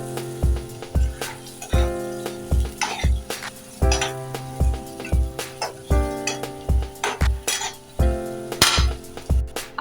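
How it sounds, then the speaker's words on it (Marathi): Green chicken masala paste cooking in oil, a spoon scraping and stirring it in a metal pan with repeated rhythmic knocks and clinks over a low sizzle, close and fairly loud, with no talk. "हे वाटण आपल्याला जरा शिजवून घ्यायचं आहे तेलामध्ये"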